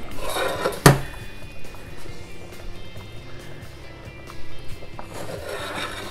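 Metal pots and pans clatter as clam chowder is moved into a bigger pot, one sharp loud clang near the start followed by quieter scraping and knocking of cookware.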